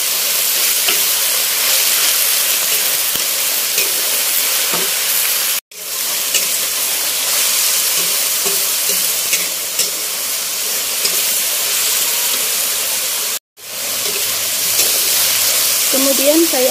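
Mustard greens fry in a pan with a loud, continuous hiss and sizzle that steams on steadily, broken twice by brief gaps.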